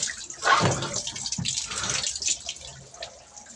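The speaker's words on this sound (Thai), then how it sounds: "เปิดน้ำที่ให้หมดเลยครับผม" Water gushes steadily from an opened tap during a repair to a leaking washing machine drain valve. The rush is loud at first, then settles into a continuous pour.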